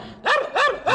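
A terrier-like Spanish dog in a village barks three times in quick, evenly spaced yaps, sharp and close, with no talking.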